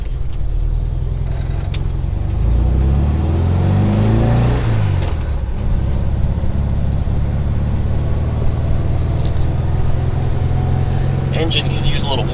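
A Volkswagen car engine runs steadily at a low, rumbling idle, rising briefly in pitch before settling back to a constant hum.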